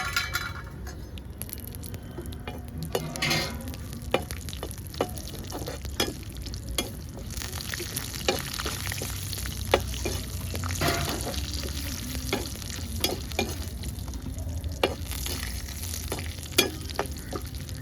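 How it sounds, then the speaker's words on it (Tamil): Cashews and almonds frying lightly in oil in a small kadai, a steady close sizzle broken by frequent sharp clinks and scrapes of a spoon against the metal pan. "முந்திரியும் பாதாமும் சேர்த்துக்கிறேன் சேர்த்து இது லைட்டாக வந்து ஃப்ரை பண்ணிக்கலாம்"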